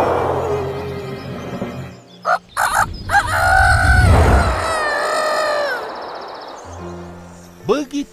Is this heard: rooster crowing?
yes